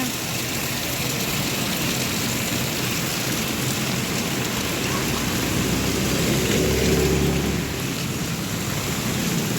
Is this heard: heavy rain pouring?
yes